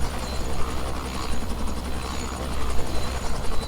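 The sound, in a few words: Robinson R66 Turbine helicopter pulling off the runway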